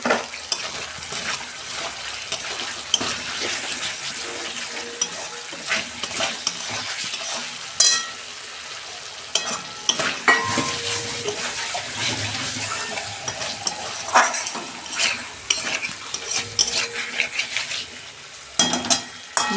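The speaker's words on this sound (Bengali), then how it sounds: "মশলা কষানো হয়ে গেছে" Spice masala for a potato curry (aloo dum) frying and sizzling in a pan, with frequent scraping stir strokes and occasional clinks of the utensil, close and fairly loud, and a brief splash of water near the end.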